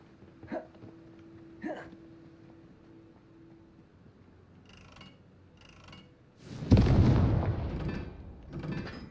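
Confringo blasting spells cast during duels in the video game Hogwarts Legacy: a few sharp spell pops early on, then a loud burst explosion that rumbles and fades, with another blast at the end.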